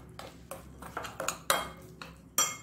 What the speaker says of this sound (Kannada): ಇನ್ನು ಸ್ವಲ್ಪ ನೀರನ್ನು ಹಾಕಿ ಕಲಗಿಸ್ಕೊಳ್ಳೋಣ.